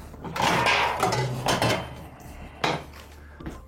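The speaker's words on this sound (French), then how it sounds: "Une petite casserole." A small saucepan handled on the stove while making a coffee-flavoured dessert: a few clattering metal knocks and scrapes, with a louder clank near the start and another sharp clank later, close up and with no talking.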